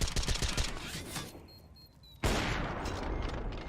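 Rapid gunfire in a Counter-Strike: Global Offensive pro match replay between Evil Geniuses and Complexity, a dense burst of shots that fades to near-quiet before a loud new volley bursts in and carries on.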